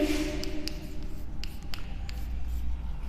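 Writing on a classroom board during a Hindi grammar lesson, a string of short scratchy strokes and taps repeating every fraction of a second against a low room hum.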